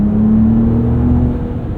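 Engine of a 2025 Ram RHO pickup held in manual mode, a steady droning rev with a sustained low tone heard from inside the cab, easing slightly toward the end.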